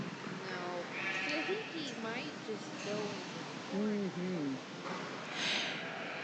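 Market lambs at a Nebraska State Fair FFA lamb show, several bleats rising and falling amid a busy show-barn hubbub, with an announcer talking over them.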